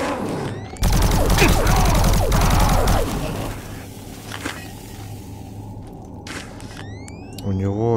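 Rapid bursts of plasma gun fire in Doom 3, loud and dense at first, then scattered shots and mechanical clicks with a voice talking underneath.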